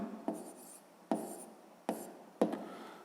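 Pen writing out a fifth-grade math division problem by hand on paper, four short scratchy strokes in an even rhythm, close and quiet with no talking.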